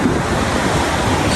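Pacific Ocean surf washes steadily onto the shore at Pangeo village on Morotai, a loud, continuous roar of breaking waves with wind buffeting the microphone throughout.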